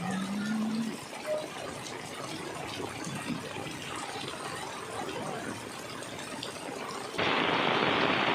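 Heavy monsoon rain falls in Bhavnagar, Gujarat, a dense, even wash of patter that runs steadily throughout and swells louder and brighter near the end.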